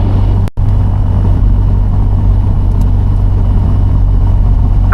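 A newly installed engine on a Piper Cherokee 6 idles on the ground as a steady, loud, low drone heard from inside the aircraft, with one brief dropout near the start and no talk.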